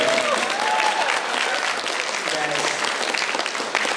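Dense audience applause and clapping from a convention crowd, steady and loud throughout the few seconds, with faint voices and cheers mixed in beneath the clatter of hands.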